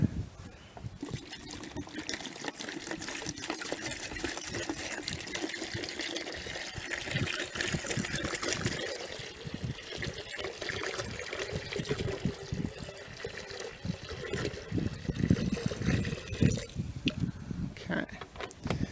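A gallon of water is poured into a bucket outdoors while preparing a raised garden bed, a continuous splashing, trickling stream close by that swells and eases over nearly twenty seconds.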